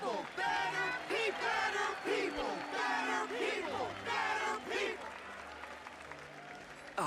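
Crowd cheering and applause in the game Honkai Star Rail, a dense wash of clapping and voices with shouts rising over it, mixed with background music throughout.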